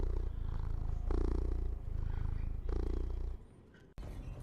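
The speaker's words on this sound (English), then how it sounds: "listen to those purrs he does" A cat purring in the video game Crimson Desert, a close, loud rumbling purr in rhythmic inhale-exhale pulses, about four cycles, ending in a short cut.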